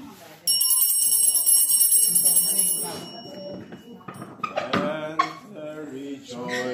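A bright bell rings sharply during a Catholic holy mass, a sustained shimmering peal lasting a few seconds before fading, followed by a voice speaking and clattering sounds.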